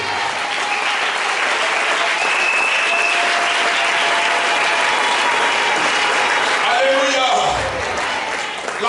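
Church congregation applauding and cheering together in response to a preacher, a dense, steady wash of clapping from a large crowd throughout, with some voices mixed in near the end.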